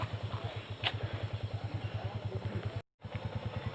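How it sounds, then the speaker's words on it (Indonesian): A motorcycle rides slowly on a slippery, rain-wet hill road in misty West Lampung, its engine a low, steady, rhythmic putter, fairly quiet, with a brief dropout near the end. "Ada satu motor lagi."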